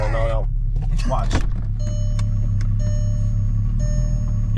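Volkswagen Jetta wagon interior where a warning chime dings repeatedly in a steady rhythm over a low idling hum, following a brief stretch of close talking.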